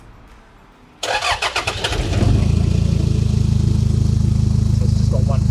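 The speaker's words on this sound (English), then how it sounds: "it's just got one resonator, no mufflers. Probably as nice as the 4-cylinder diesel can have done." A 4-cylinder diesel in a Toyota 70 series Land Cruiser Prado cranks and fires up, then settles into a loud, rapid, throbbing idle through an exhaust with one resonator and no mufflers; a brief word is spoken at the start.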